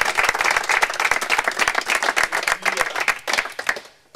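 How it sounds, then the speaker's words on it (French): A football team applauds itself in the locker room after a match, a loud, lively patter of many hands clapping at close range that eases off toward the end. "vous pouvez vraiment vous applaudir"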